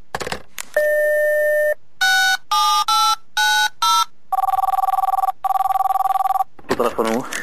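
A telephone rings in several bursts of electronic tones, loud and close, with repeated chirping rings and a brief voice at the end.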